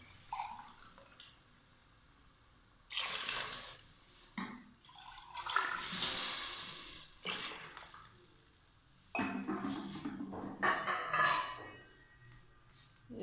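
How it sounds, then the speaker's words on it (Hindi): Water pours into a cooking pot for vegetable pulao in several bursts of splashing, with quieter pauses between them and occasional clinks of handling. "अब हम इसमें पानी डालेंगे।"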